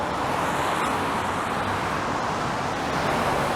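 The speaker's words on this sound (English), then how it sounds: "And there goes another 53 Steels bus." A 53 Steeles TTC city bus rolls past on Yonge Street in North York, Toronto, a broad steady roar of engine and tire noise amid traffic, loud and close for a few seconds.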